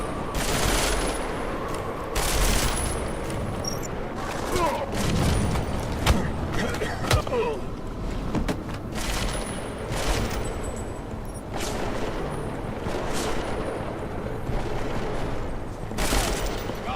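Gunfire in Deus Ex: Mankind Divided, repeated sharp bursts and shots in uneven clusters over a busy combat background, fairly loud and without talk.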